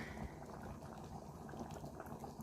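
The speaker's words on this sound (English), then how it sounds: "Our beans are here cooking well." Beans boiling in a cooking pot for a Ugandan-style meal, a soft steady bubbling and simmering, faint and continuous with no talk.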